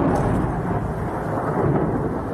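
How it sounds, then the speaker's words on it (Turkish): Thunder rolls through a heavy downpour during a storm in Şanlıurfa, Turkey, a loud, continuous roar of rain with deep rumbling, no voices. "sağanak yağmura ardı ardına patlayan şimşekler eşlik etti"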